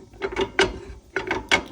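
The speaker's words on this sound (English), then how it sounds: "you got to take your socket or your pliers, whatever you got, and just keep turning it." A socket tightening the spindle nut on a Coleman 13B camper wheel: short bursts of ratchet clicking in two close groups of rapid pawl ticks, crisp and near, with no voices.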